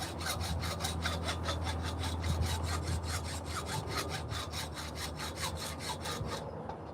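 Hacksaw cutting through a wood log meant for chainsaw carving, a steady back-and-forth rasping of regular strokes, close and fairly loud, stopping near the end.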